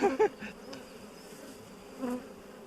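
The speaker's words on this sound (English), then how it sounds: "it's quite remarkable seeing them inside the hive, Tom, isn't it?" Honeybees hum and buzz around an opened hive, with a few louder, close buzzes at the start and another swell near the end over a faint, steady background drone.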